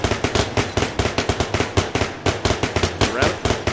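Rapid gunfire in the VR shooter Bullet Train VR, a loud close string of sharp shots fired at a fast, fairly even pace for several seconds without a break.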